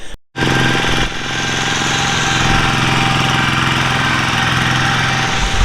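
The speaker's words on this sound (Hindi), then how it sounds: "यहाँ ऐसे छोटे छोटे ट्रैक्टर जैसे कुछ चल रहा है।" A small tractor-like vehicle runs close by on a Sri Lankan street, its engine chugging in a loud, steady rhythmic knock that carries on throughout after a brief gap at the start.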